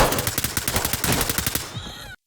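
Rapid gunfire bursts in the tactical shooter Ready or Not, loud and close, with dense repeated shots over about two seconds before cutting to silence.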